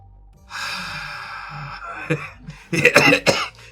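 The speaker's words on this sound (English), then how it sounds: "Just coughing." A person coughs nearby, a strained breathy exhale followed by a few rough, loud coughs in quick succession.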